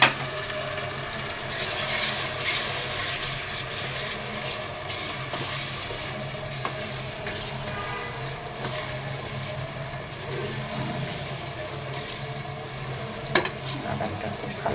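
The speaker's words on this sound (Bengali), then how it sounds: "বাদামটা খুব ভালোভাবে ভাজা ভাজা করব, এতে রান্নার ফ্লেভারটাই স্পেশাল হবে।" Ground nut paste, onion paste, green chilli paste and whole garam masala fry together in a pan for chicken korma, with a steady sizzle and a spatula scraping and stirring throughout, alone and close.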